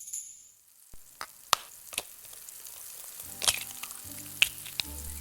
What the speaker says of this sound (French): Dans cette poêle, 3 tranches de bacon. Elles grillent, frétillent.